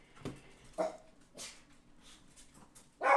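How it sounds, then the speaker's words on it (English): Dogs bark several times in irregular, sharp bursts, close and fairly loud, with one final louder bark at the end and no voices over them. "God damn it, dogs!"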